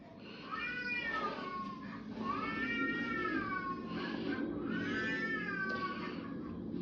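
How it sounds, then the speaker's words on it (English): A cat-like wailing cry in a recording: three long, loud wavering wails that rise and fall in pitch, one after another, with a steady background hiss and no speech. "it still, to me, sounds like a cat just going off"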